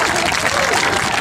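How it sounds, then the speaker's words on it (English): Dense, loud applause from an audience at an aquarium show at the National Aquarium in Baltimore's Inner Harbor, a steady wash of clapping hands filling the whole short moment. "Give her a big round of applause."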